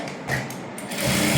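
A sewing machine runs close by, topstitching the lining of a child's princess-cut silk blouse, a fast buzzing whir with a brief pause mid-way before the stitching resumes and grows slightly louder.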